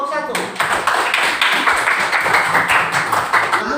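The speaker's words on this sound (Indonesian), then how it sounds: "Tepuk tangan buat kelompok 1." Classroom students clapping for the first discussion group before its presentation, a rapid, close run of many hands clapping with some voices mixed in.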